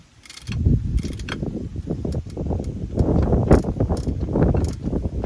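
Rapid mechanical ratcheting clicks of self-tailing sailboat winches in uneven bursts, sharp metallic ticks over a busy rattling whir, close and fairly loud.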